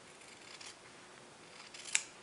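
A single quiet snip of scissors cutting quilt binding fabric near the end, preceded by soft rustling and handling in an otherwise quiet space.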